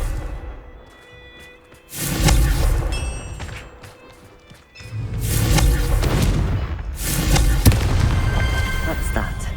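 Confringo fire spell blasts in Hogwarts Legacy, two loud booming bursts with crackling fiery tails, each swelling and lingering for a few seconds over a soft ambient game background.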